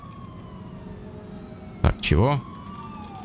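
Siren from an ambulance arriving in the video game Murdered: Soul Suspect, a short loud wailing burst with a rising then falling sweep near the middle, over game ambience, with someone talking briefly.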